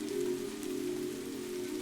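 Soft, steady rain falls on a terracotta rooftop among olive trees, an even continuous patter with no voices.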